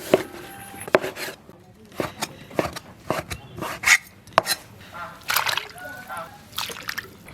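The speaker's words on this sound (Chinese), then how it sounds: "把鸡脯肉切成条儿" A knife cutting chicken breast into strips on a board, irregular sharp chops and taps close by, with occasional wet sloshing between strokes.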